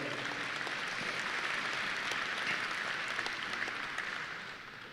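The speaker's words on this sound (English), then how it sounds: "All right, let's give Damon a round of applause." Banquet guests at a Texas DOT safety awards event applaud Damon White, a safe operator of 27 years, with even, sustained clapping from a roomful of hands that tapers off toward the end.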